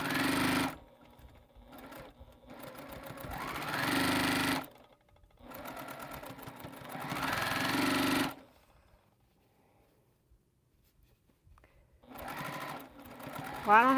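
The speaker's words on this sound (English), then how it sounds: "And sew this together." A sewing machine runs in bursts, stitching busy fabric seams during a quilting session, each loud whirring run separated by short pauses and a longer stretch of quiet.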